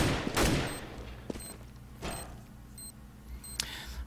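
Counter-Strike gunfire plays during a competitive esports match, with bursts of rapid shots and scattered pops at moderate loudness over a busy game background.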